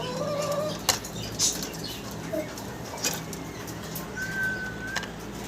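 Domestic pigeons in a pen give soft cooing calls, with several sharp bursts of wing flapping standing out over a steady low background hum.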